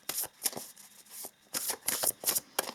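Tarot cards riffle-shuffled in quick bursts of crisp, papery flutters, close and fairly quiet, with short pauses between each run and no talking.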